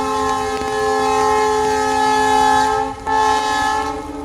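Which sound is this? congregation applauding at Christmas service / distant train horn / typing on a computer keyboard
distant train horn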